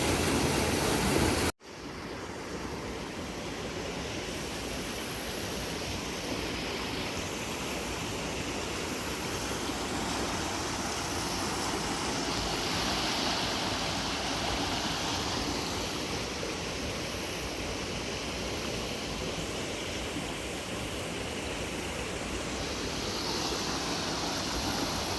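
Spring water gushes out of the ground in the Missouri Ozarks near Eminence, a steady, close, full rushing roar that holds unbroken for the whole stretch with no voices over it.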